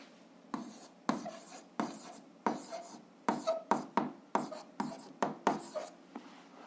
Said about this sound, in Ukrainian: Ну що ж, записуємо відповідь, пишемо відповідь.